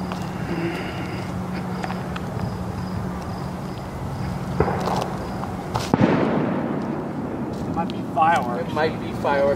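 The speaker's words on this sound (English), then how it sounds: "Fireworks. You're fireworks." Fireworks bursting at night near the Lake George battleground, a few sharp cracks and a louder boom standing out over a steady insect chorus, with people talking afterward.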